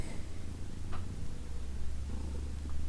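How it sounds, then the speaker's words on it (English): A pet cat purrs loudly and steadily, with a close, continuous low rumble running through the whole moment without any talk. "your purring is really, really loud"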